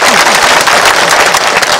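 Audience at a political rally applauds loudly and close, dense continuous clapping from a crowd with a few voices mixed in, filling the whole stretch.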